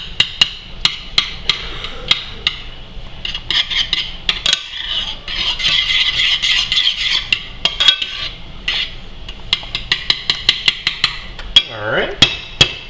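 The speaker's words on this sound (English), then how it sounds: "So we're just going to stir this up a little bit and get the clumps out of it." A utensil stirring melted cheese in a pot on the stove, with repeated sharp metallic clinks against the pot and a stretch of continuous scraping in the middle, close and clear.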